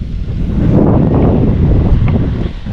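Strong wind buffets the microphone on an exposed mountain peak beside a boat-shaped attraction, a loud, continuous low roar with gusty surges throughout and no talking.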